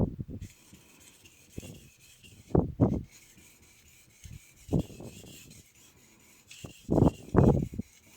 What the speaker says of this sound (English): On the third stroke, I will raise the angle on the knife.